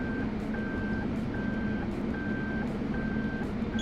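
Parking radar sensor on a car beeps steadily while reversing at an angle-parking spot outdoors, a regular series of short tones about every half second over a constant low hum of traffic or idling.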